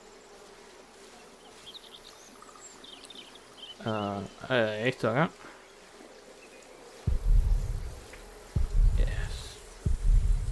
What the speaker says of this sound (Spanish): Vamos a tirar esas avispas